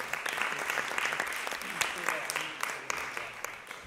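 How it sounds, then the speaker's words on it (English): A crowd of listeners applauds a performer named Brandon at a college sight-reading presentation, dense steady clapping filling the whole stretch with a few sharper claps standing out. "a round of applause"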